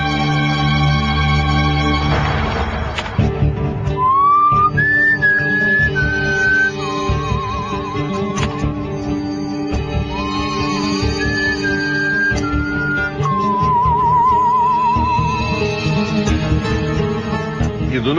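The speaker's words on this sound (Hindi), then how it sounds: "आप लोग एक एक करके वहां उस केबिन में जाएंगे और माइक के सामने सीटी बजाएंगे" A person in a booth whistles a wavering, melodic tune into a microphone, in two long phrases with pauses, over a steady background of dramatic music.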